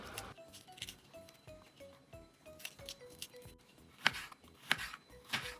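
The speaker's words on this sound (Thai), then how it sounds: "ต่อมาตามด้วยข้าวโพดอ่อนนำมาหั่นเป็นชิ้นเหมือนกันค่ะ" A knife chops baby corn into pieces on a board, quick irregular taps and thuds close by, some sharper knocks toward the end, with no talking.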